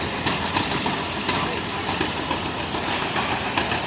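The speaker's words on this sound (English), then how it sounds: "1972 Alice Chandler 720 lawn tractor" A 1972 Allis-Chalmers 720 lawn tractor engine runs at a steady idle through a power parade, its continuous rumble heard with someone speaking over it on a loudspeaker.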